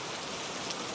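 Steady rain falling and pattering on surfaces, a dense even hiss that fills the second without pause, close and fairly loud, with no voices.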